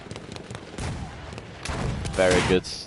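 Tank cannon fire in a competitive online tank battle game, a few short booming shots and impacts over a busy game background, with a commentator's voice partly underneath.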